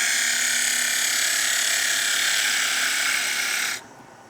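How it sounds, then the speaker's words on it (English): A sharp gouge takes a cut across end grain on a spinning wood lathe, giving a steady, loud hiss and rasp that holds evenly for over three seconds before stopping abruptly as the tool lifts away. "switch to a nice sharp gouge, drop the speed just a touch, pressure down on the gouge"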